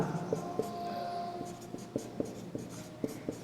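Writing on a board during a Class 10 math lecture on real numbers, a quick series of distinct taps and scratches in an irregular rhythm, close and fairly faint, with no talk over it.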